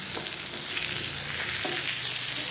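Chili, shallots, garlic, tomato and shrimp sizzle in hot oil with a steady crackling fry and a few stirring scrapes, close and continuous.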